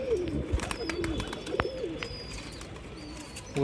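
Pigeons coo close by in a home loft, soft rolling low calls repeating over a light background hiss with faint clicks and rustles.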